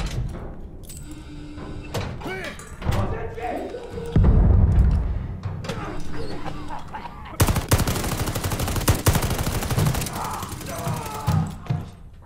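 A grenade tossed in Call of Duty Vanguard's WWII Hamburg campaign, then a heavy low blast followed by sustained rapid gunfire bursts, with soldiers' voices calling out over the fighting.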